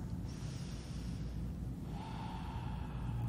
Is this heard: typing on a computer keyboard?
no